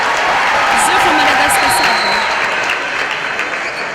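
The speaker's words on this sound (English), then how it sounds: "As you can hear in the background, a lot of relations. The crowd has gotten big." A large crowd fills a table tennis championship arena at the MTN Sports Arena in Lugogo, Uganda, with loud sustained applause and a general hubbub, and voices carry through the noise.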